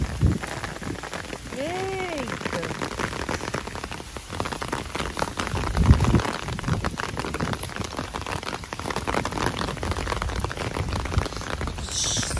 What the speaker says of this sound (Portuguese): Chegou aqui a chuva, gente.